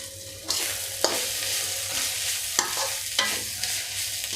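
Grated fresh coconut fry sizzles in a pan while a spoon scrapes through it in several sharp, evenly spaced stirring strokes over a steady frying hiss, close up and with no voices.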